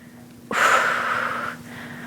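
A single loud, heavy exhale bursts out during a resistance-band lower-body workout, sharp at onset and lasting about a second before fading into quiet room tone.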